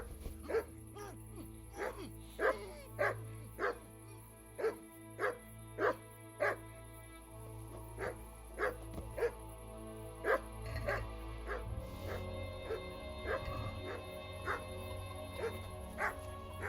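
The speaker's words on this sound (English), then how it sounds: "Who are you barking at?" A dog in the medieval video game Kingdom Come: Deliverance gives a long series of sharp, evenly spaced barks, then yips and whimpers over a low background hum.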